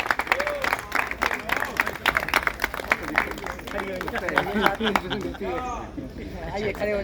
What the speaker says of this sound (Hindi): तो एक बार सभी ताली बजाते रहे।